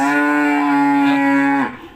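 A lactating cow gives one long, loud, close moo with a steady tone that drops off sharply at the end, heard alone.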